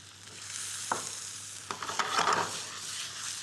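Lightly salted mutton hits a pan of cooked onion and garlic, giving a steady close sizzle with a few sharp stirring scrapes and a brief louder burst of frying.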